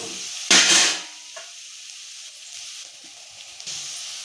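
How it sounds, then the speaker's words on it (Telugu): Egg fried rice frying in a pan at home, a loud burst of sizzling hiss that quickly settles into a quieter steady frying sound, with a few soft clinks of stirring. "కొంచెం ఫ్రై చేసుకుందాం బాగా. చూసారా, బాగా ఫ్రై అయింది."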